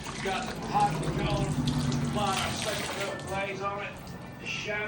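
Water runs steadily from a tap onto a part that has just been heated, used to cool it quickly during a Peg-Perego John Deere XUV 550 build; someone talks over the continuous splashing flow.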